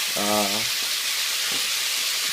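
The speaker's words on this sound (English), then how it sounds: "Just cook the cabbage." Cabbage fries in a hot pan, a loud continuous sizzle and hiss filling the whole moment, with a short voice heard near the start.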